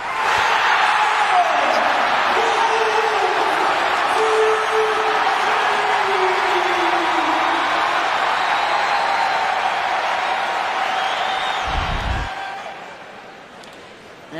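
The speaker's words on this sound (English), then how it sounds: "Watch Wolf, sit back and listen to the crowd." A basketball arena crowd roars and applauds steadily for a long stretch, loud and sustained, before thinning out near the end after a brief thump.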